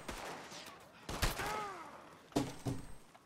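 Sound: gunfire in Red Dead Redemption 2 video game

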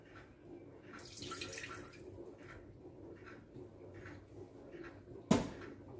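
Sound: water being poured into a jug

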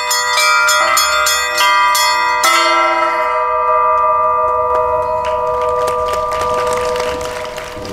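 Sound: church bells ringing

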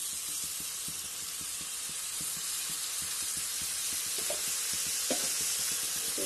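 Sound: garam masala frying in a pan

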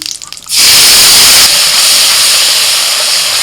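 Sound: spice paste sizzling in hot mustard oil in a wok

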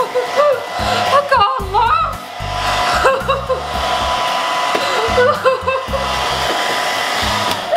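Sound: hair dryer on full heat drying a peel-off mask

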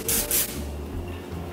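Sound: spraying low cholesterol cooking oil into a cake pan

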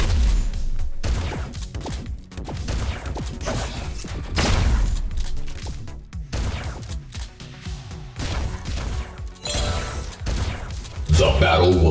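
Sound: gunfire from the video game Thetan Arena

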